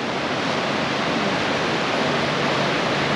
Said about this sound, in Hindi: ये जहाँ पे हम रुके हुए हैं यहाँ पे देखो हिमाचल का जो खड्ड बोलते हैं उसका पानी है